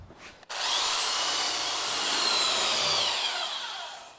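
Medium-grit sandpaper worked by hand over a hardwood floor in a Craftsman bungalow gives a steady, close, continuous rasping scrub that begins after a short pause and runs on without a break, with no talking.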